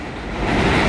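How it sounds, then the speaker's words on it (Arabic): A train passes in a city, a loud rumbling roar of wheels on rails that swells and grows closer over a short moment. "هذا القطار"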